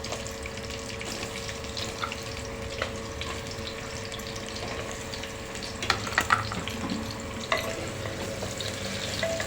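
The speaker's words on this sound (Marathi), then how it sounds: "त्यामध्ये आपण दुधी घालणार आहोत दुधीचं काप टाकणार आहोत" Bottle gourd slices frying in ghee give a steady close sizzle with occasional stirring scrapes and a few spoon taps against the pan, continuous throughout with no voices.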